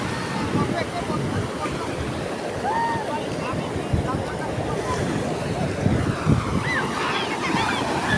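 Continuous roar of ocean surf with waves rushing and breaking close by on a beach, wind buffeting the microphone, and faint voices in the background.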